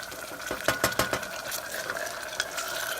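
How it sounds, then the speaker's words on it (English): Mustard being stirred into a sweet barbecue sauce mixture with a utensil, giving a cluster of sharp scraping and clinking strokes near the start, then softer wet swirling that continues steadily to the end. "Get that stirred around, get that mixing together."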